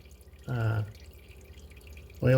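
Drain-plug drip from a Honda Civic slowly draining fluid: two separate, fairly close drops, one early and one at the end, over a faint, quiet background hum.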